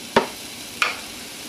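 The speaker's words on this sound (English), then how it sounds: "we need to cook up some bacon because we'll be needing it later on. About a half a dozen slices or so will do." Bacon slices sizzle in a pan with a soft, steady hiss, broken by two sharp clacks about half a second apart. No voices are heard.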